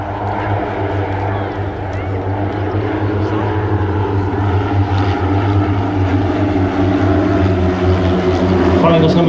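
Propeller aircraft flying in chevron formation at the Royal International Air Tattoo, a steady loud engine drone holding throughout while a commentator talks over it.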